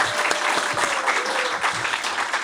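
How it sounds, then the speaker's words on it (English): A live audience in Santa Monica claps for a guest at a security talk event: dense, even applause from a room of people, steady and fairly loud throughout the short stretch. "Please, warm round of applause for our guest"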